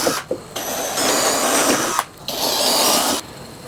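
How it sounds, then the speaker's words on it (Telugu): A power drill whirs into the wooden sides of a puja mandir in several loud, sustained bursts separated by brief pauses, close and clear. "ఫోర్ సైడ్స్ డ్రిల్ చేసేసుకున్నాం కదా, ఇవైతే పెట్టేసుకుందాం"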